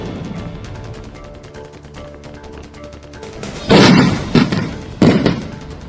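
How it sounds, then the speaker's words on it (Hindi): Explosive charges blast boulders during clearing of the NH-44 highway in Udhampur, Jammu and Kashmir, three heavy booming detonations one after another over background music. "जहां विस्फोट कर बोल्डर्स को हटाकर रास्ता साफ करने की कोशिश की जा रही है।"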